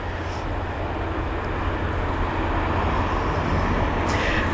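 An aircraft rolls off the runway at London Heathrow, a steady broad engine roar and rumble with faint airport background and no voices.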